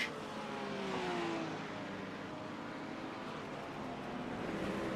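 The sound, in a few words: race car passing by in the sim racing game, a Corvette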